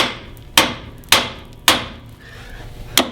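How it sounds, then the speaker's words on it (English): A hammer beats the tie rod end out of the steering knuckle on a Dodge Caravan, four loud ringing metal strikes at an uneven, roughly half-second pace, close and without talking. "and beat the tie rod end out of it."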